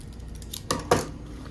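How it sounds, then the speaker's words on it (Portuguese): Scissors trim excess fabric from a small handmade sewn bag, giving two quick, close, crisp snips in rapid succession against a quiet background. "Cortar o excesso."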